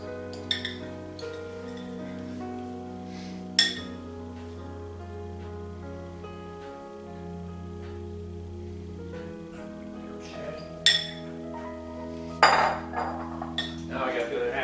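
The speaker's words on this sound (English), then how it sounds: "Just happen to have this mixing fork, this fork in here to mix it with." A metal mixing fork scrapes and clinks against a pan while stirring baked ziti pasta, scattered sharp clinks over a steady low hum, close by and fairly faint between strikes.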